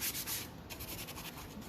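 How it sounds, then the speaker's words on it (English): Hand sanding on a wooden cutting board, a steady scratchy rubbing with repeated short strokes, fairly quiet and close, no talking. "Let me give this a quick sanding"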